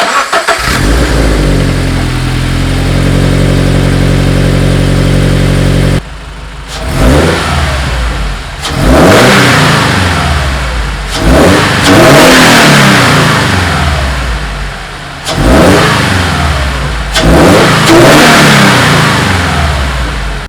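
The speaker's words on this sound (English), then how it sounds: "now let's just get started on turning on the car" A Scion FR-S / Subaru BRZ / Toyota GT86 fitted with a Perrin cold air intake cranks and fires up, settles into a loud idle, then is revved hard several times in repeated surges that rise and fall back, close and with no voices.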